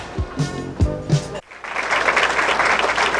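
Crowd applause at a 1987 duckpin bowling championship match in a town hall, starting with a few scattered claps and swelling into steady, sustained clapping for over a second and a half.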